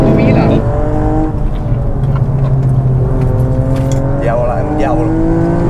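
A sports car engine revs hard inside the cabin, climbing through the gears toward its 8000 rpm limiter, loud and close, with people talking over it.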